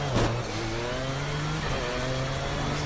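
Engine of a Marek RP 219D LMP2 prototype race car in the Project CARS racing game, a loud steady drone that shifts up through the gears with rising pitch, rapid upshifts close together, no voices.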